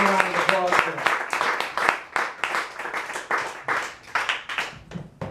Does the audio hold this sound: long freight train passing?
no